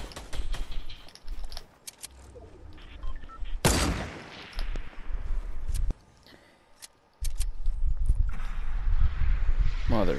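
Video-game gunfire cracks repeatedly during a sniper fight, sharp loud shots scattered across the clip with one very strong blast, mixed with movement noise and bursts of louder action.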